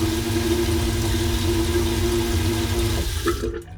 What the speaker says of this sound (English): so let's test the new toilet